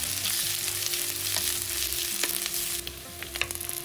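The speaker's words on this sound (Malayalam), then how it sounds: "ഒരിഞ്ച് നീളത്തിലുള്ള ഇഞ്ചി, 3 വെളുത്തുള്ളി, 3 പച്ചമുളക്. ഇത്രയും വഴറ്റുക." Ginger, garlic and green chillies sauté in an oiled pan for a sardine curry, giving a steady close sizzle with a few scraping stirs and no voices.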